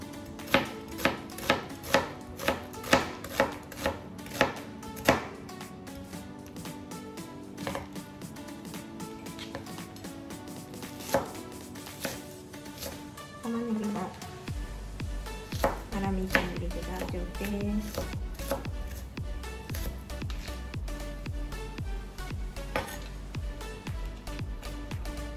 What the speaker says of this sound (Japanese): 後で細かくするので、あんまりこう細かく切る必要はないけど、まあ、お肉の粗みじん切りぐらい